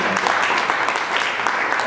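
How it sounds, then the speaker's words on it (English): A short burst of lively applause from the audience at a tech meetup, dense clapping for about two seconds with no talk over it. "So give those guys a round of applause."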